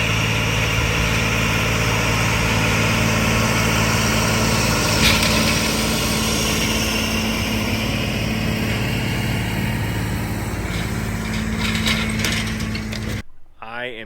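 Tractor engine idling, a steady mechanical rumble with a constant hum and light rattling that holds evenly throughout before cutting off near the end.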